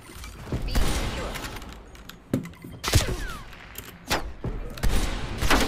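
Sniper rifle gunfire from the video game Black Ops Cold War: several sharp, loud shots at irregular intervals, each cracking out over a busy backdrop of in-game noise and mechanical clatter.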